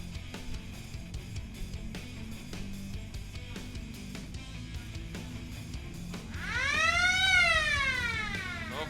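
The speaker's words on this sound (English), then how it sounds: "Oh, there's the hurry up siren going." A hurry-up siren wails at a sidecar speedway race at Moore Park, rising and falling in a single loud sweep near the end over a background of music and crowd ambience.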